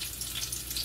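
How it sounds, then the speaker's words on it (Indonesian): A spice paste of shallot, garlic, kaffir lime and pepper sizzles steadily in hot oil, a close, continuous hiss with no speech, part of cooking Kudus-style spicy fried potatoes. "Kita ongseng bumbunya ya. Kita ongseng bumbunya. Bawang merah, bawang putih, jeruk purut,"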